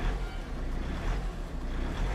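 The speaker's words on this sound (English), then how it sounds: "The Gurkha is idling right now." A Force Gurkha Xtreme 4x4 off-roader with a 2.2 turbo diesel engine idling, giving a steady low rumble with wind-buffeted noise and no talking.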